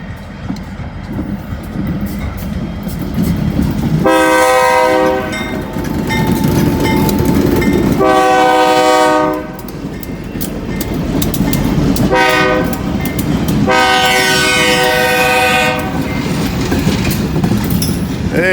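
BNSF freight train with a lashup of locomotives passing a station, rumbling loud and close, with a long horn sounding in three drawn-out blasts over the steady roll of the cars.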